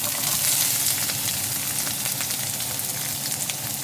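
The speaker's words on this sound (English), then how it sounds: "I'm going to saute my carrots and my bell pepper" Carrots and bell pepper sautéing in a pan for a Jamaican sweet and sour fish dish, a steady bright sizzle with faint crackles throughout, close and continuous with no talking.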